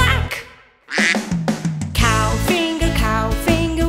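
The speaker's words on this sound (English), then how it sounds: "A duck goes quack." A cartoon duck quacks loudly in a children's farm animals song, with repeated bright, nasal calls set against cheerful music after a brief pause near the start.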